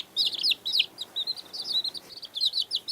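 Small baby chicks chirp in quick, high, repeated peeps, several birds overlapping in short bursts, close and clear against a quiet background.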